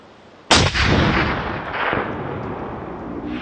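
A single loud .270 Win rifle shot fired while hunting red deer in the open, a sharp sudden crack followed by a long rolling echo that fades over a few seconds.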